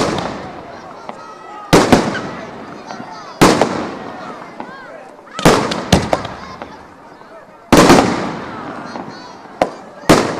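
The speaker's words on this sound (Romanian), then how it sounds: "Povestea s-a terminat cu un spectaculos foc de artificii" Fireworks burst overhead at a Christmas celebration for children, sending several sharp, loud bangs in an irregular sequence with crackling and rumbling decay between them, while a crowd murmurs underneath.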